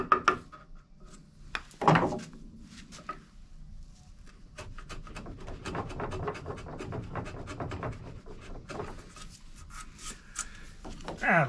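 Hand sanding of wooden boat toerails, a steady close rasping rub with scratchy strokes that swell and fade, a few sharper knocks breaking in, no talking.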